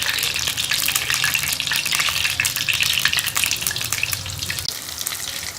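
Chicken bread rolls made from double roti fry in hot oil until brown, giving a loud, close, continuous sizzle and crackle with no talking.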